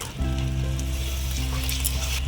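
Steady loud sizzling of tomatoes added to frying spices in hot oil in a pan, with a low hum underneath and no voices.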